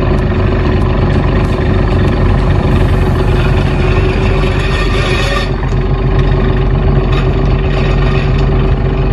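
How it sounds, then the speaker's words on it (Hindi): A lifeboat engine runs during a trial lowering on the Arabian Sea, loud and close with a steady, heavy diesel drone and constant rumble throughout, no voices audible. "इसके बाद life boat engine try out हुआ"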